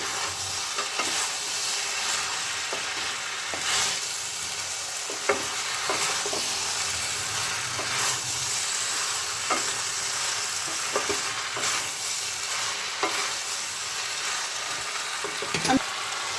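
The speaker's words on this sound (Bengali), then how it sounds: "এবার আমি মাছের মাথাটা আর মাছের তেলগুলো এর মধ্যে দিয়ে দেবো। দিয়ে এটাকে আমি ভালো করে মিক্স করে নেব।" Fish head and fish oil being stirred into Malabar spinach with rohu fish head in a pan, frying with a steady sizzle and repeated scraping stir strokes throughout, no talking.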